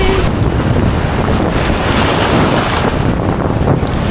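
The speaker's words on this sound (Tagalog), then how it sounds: "Sobrang lakas ng hangin." Strong wind roars and buffets the microphone nonstop on a Boracay Island beach, a loud dense rush with surf faintly mixed underneath.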